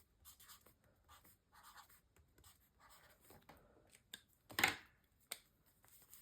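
Pen handwriting in a paper journal: soft, close scratching strokes in short bursts with small pauses, plus a sharper tap or scrape near the end. Faint overall, with no talking.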